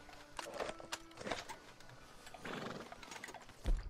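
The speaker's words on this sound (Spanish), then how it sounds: "¿Por qué no me haces caso, caballo estúpido?" A horse in Red Dead Redemption II whinnies and neighs while hoofbeats clop along, with a few louder bursts and a heavy thump near the end.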